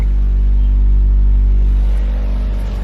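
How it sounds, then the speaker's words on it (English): A 2019 hybrid car's engine revs after a cold start with roughly 145,000 km on it, a steady loud low rumble with the rasp of an exhaust leak, heard up close with no talking. "I think it has an exhaust leak that is somewhat loud from the interior, especially for a hybrid."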